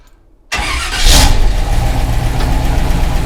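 A car engine with no throttle cable, run on a little fuel, cranks and catches after a half-second of silence, surging loudly before settling into a steady, close idle.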